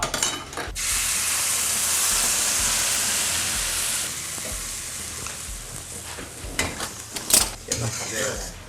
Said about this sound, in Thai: ผัดให้สุก ผัดให้สุกแล้วให้ข้น